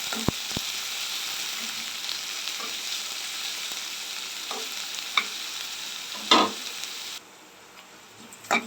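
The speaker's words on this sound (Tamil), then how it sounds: "வெங்காயம் வதங்கிட்டு இருக்கு" Sliced large onion sautés in oil in a pan for a garlic curry, a steady hiss with occasional light spatula clicks before the sizzle drops off sharply near the end.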